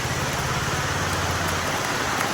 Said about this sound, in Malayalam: നല്ല ഗംഭീര മഴ കേട്ടോ ഇവിടെ